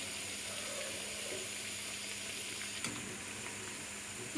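Peyaju, onion fritters, deep-fry in hot oil with a faint, even hiss of bubbling oil throughout, broken by a single small clack partway through, with no talking.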